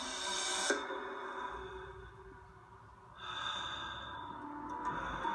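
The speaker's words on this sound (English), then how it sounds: "somebody's breathing behind her, and all you see is the breath and the breathing itself, you can hear that" Heavy, close breathing in a horror film trailer for The Invisible Man (2020), with a sharp breathy burst at the start and another swell of breath and hiss later under a tense soundtrack.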